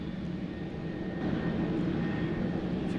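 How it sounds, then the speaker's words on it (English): Jet aircraft at Sydney Airport at night, a steady low engine rumble and roar heard from a distance against broad background noise. "lots of planes getting ready to take off as well"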